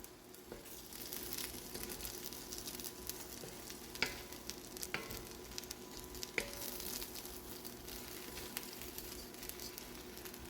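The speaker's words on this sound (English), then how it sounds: "I'm just going to stir that all around to combine it" Sausage, deboned chicken and toasted rice stirred together in a pot give a steady, close sizzle with scraping and soft squishing, broken by a few sharper clicks of the spoon against the pot.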